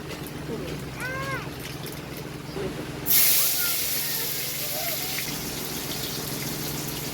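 Black cumin seeds hit hot mustard oil in a heated wok with a sudden loud burst of sizzling hiss, which then settles into a steadier crackle after quieter background sounds.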